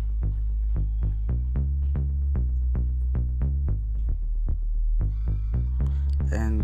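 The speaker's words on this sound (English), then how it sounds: "Yeah, then I have a bass, lock drum, and sounds like this." Steady beat of deep bass and lock drum hits in an amapiano-style groove, regular thumping pulses with a trailing delay echo, a brighter tonal flourish entering near the end, no talking.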